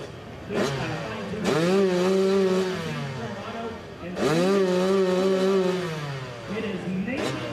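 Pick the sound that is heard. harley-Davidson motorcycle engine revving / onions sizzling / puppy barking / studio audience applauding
harley-Davidson motorcycle engine revving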